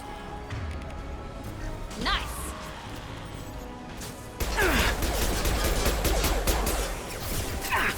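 Sudden gunfire in Mass Effect 2 erupts midway as a loud, dense rattle of shots after a quieter stretch with scattered impacts and a voice speaking.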